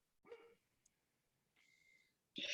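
A pet dog barks indoors, one sharp bark near the start, a higher whining yelp later and another loud bark at the end, separated by quiet room tone.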